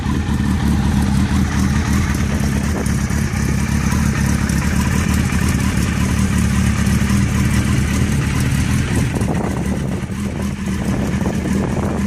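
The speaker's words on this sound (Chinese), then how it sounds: "谢谢大家听下声浪" A modified Streetfighter-style motorcycle engine runs hard and steady, its loud, raspy exhaust note droning close by for the whole stretch with no talk over it.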